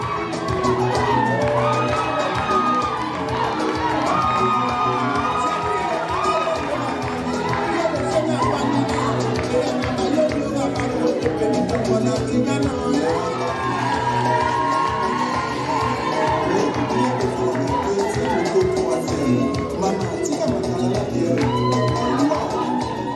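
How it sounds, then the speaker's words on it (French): A large crowd cheers and shouts continuously at a children's beauty pageant as winners are placed, with whoops and high excited voices rising over a dense, sustained roar and applause. "Les cris et les applaudissements ont retenti lorsque les filles ont pris les places d'honneur parmi les meilleures"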